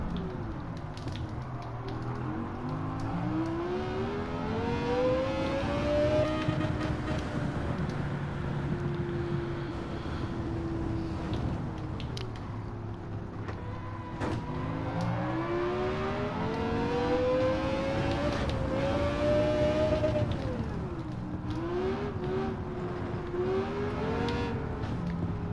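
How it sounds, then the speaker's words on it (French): Race car engine in Gran Turismo 7 accelerating hard, a steady loud drone that repeatedly climbs in pitch through the gears, drops at each shift and rises again, continuous with no speech. "tu vois que la voiture elle accélère sévère"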